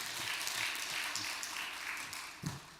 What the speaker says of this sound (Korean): 박수로 전해드리겠습니다.